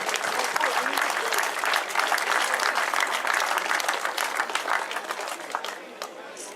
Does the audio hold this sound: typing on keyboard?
no